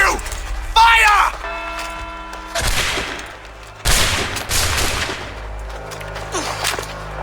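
A gunfire volley in Assassin's Creed III, loud cracking shots bursting in two main waves with echoing tails, after shouted dialogue and amid other voices.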